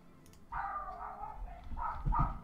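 Dogs in the WaterBlock game bark in a burst of loud, overlapping yelps and barks, with a second flurry after a short lull, set against low background rumble.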